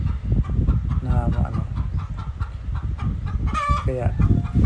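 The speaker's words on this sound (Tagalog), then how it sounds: "agaw eksena ang manok guys." A chicken clucks repeatedly close by at Amarila Beach, Panglao, Bohol, with a louder squawking cackle near the end, over a busy background of rustling and faint voices.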